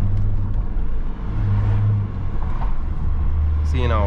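A BMW E34 525 TDS Touring diesel, remapped, revving during a downshift rev match on a city drive, a steady low engine drone rising and falling in pitch inside the cabin, with a brief whine near the end.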